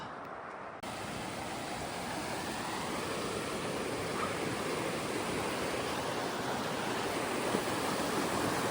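Cold Springs Creek in Oregon runs clear and steady, a continuous broadband rush of flowing water close by, even and unbroken throughout with no voices.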